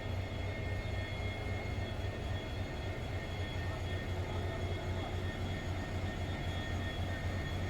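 The Kamrup Express passenger train from Dibrugarh to Howrah makes a steady, loud rumble that stays continuous and unbroken throughout, with no voices over it.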